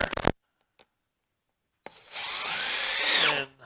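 Power drill driving a screw into a wooden bench: a brief knock, a pause, then a rising, whining drill burst lasting over a second before stopping.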